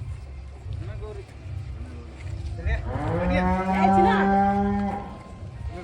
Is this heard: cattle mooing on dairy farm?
yes